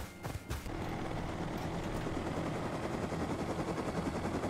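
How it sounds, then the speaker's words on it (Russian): A helicopter in the video game Rust roars loud and close, its dense, steady engine and rotor noise filling the whole stretch after a few sharp bursts at the start. "Ооо, коптер, коптер, коптер, коптер, коптер."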